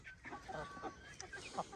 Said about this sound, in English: Come out and see these chickens.